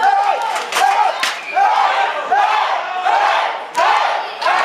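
Wrestling crowd at a CWF hardcore show in a packed venue, roaring and chanting in loud repeated surges that swell and fade across the moment, with a commentator's voice faintly under the noise.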